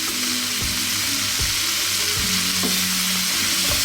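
Bottle gourd (upo) hits a pan of cooking tomatoes, setting off a loud, close sizzle that holds steady, with a few clunks and scrapes of a utensil as the pieces go in and get stirred.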